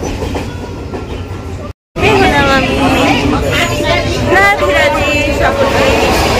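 A train rolls along with rhythmic clattering wheels and a loud rumbling cabin, people chattering over it and a squealing tone in the background.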